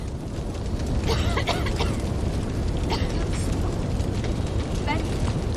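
A house fire roars steadily in the Eternal Threads game, a loud continuous rumble with occasional crackles and pops, while a voice speaks over it.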